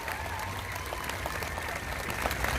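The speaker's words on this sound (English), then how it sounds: "Mark Aldridge, another round of applause." Moderate clapping from a crowd at a Black Lives Matter rally, steady throughout and swelling slightly toward the end, heard from a short distance.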